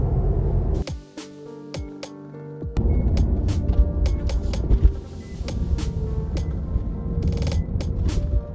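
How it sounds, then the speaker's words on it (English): Steady interior road noise in a Tesla driving on a quiet road fitted with mud flaps: a low broadband rumble with occasional creaks and light clicks, continuous throughout with a brief dip early on. "This is the ambient sound inside the car."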